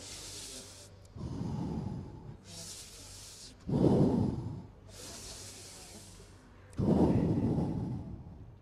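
Three deep, slow breaths, each a long inhale followed by a fuller, louder exhale, spaced evenly a few seconds apart, close and with no talking.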